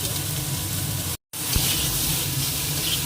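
Potato and eggplant pieces sizzle in hot oil in a pan, a steady loud crackling hiss that drops out for a moment and then carries on.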